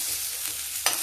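Garlic and a split chili frying in hot ghee, a steady close sizzle with a brief sharper burst near the end, no voices.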